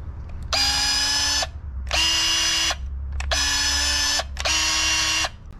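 A handheld powered branch-cutting tool, switched on with a lever and then the trigger, buzzes loud and close in four bursts of about a second each, with short gaps between them.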